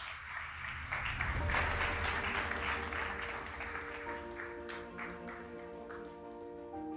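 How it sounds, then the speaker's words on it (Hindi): An audience gives sustained applause welcoming the mayor of Indore at a cleanliness campaign event, a dense wash of many hands clapping that swells early and then holds steady, with some tonal music underneath. "जोरदार तालियों से स्वागत।"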